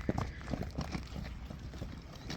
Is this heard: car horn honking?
no